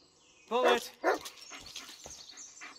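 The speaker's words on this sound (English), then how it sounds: "Oh, were you just barking at the footprints?" Bark from a dog companion in the Blair Witch video game, two loud close woofs followed by fainter game sounds and rustling, with no voice over them.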